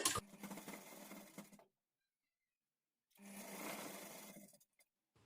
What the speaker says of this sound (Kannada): ಇಲ್ಲಿ ಮೊದಲಿಗೆ ನಾವು ರಫ್ ಸ್ಟಿಚ್ ಹಾಕ್ಕೊಳ್ಬೇಕು